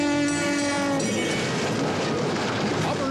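A train horn blares loudly for about a second, then a train rumbles past with steady rattling and clatter.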